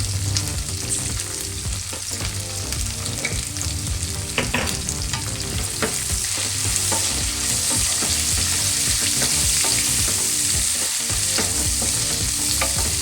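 Chopped green chillies frying with turmeric in a pan, with continuous loud sizzling and crackling oil plus repeated scraping stirs, close up and free of talk.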